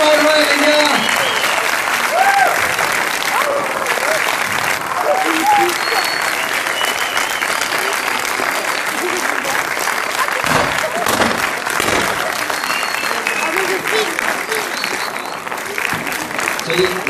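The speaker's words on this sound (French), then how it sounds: "applaudissements, mesdames et messieurs, à l'équipe du film de Nicky Larson." Sustained audience applause and cheering for the film team at a French movie premiere, a dense, loud wash of clapping that runs throughout, with scattered voices and shouts mixed in.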